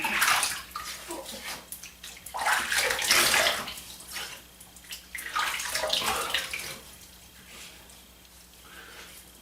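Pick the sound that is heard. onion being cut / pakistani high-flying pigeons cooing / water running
water running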